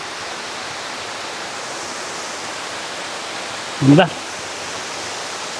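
Salipit Falls on the Kaytitinga River in Alfonso, Cavite gives a steady, even rush of falling water heard from a short distance, with a brief spoken word breaking in near the end.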